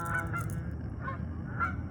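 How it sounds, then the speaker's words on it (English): A family of geese gives several loud, clear honks in quick succession against a steady low background rumble, with no one talking. "Yes, I have a family geese around here."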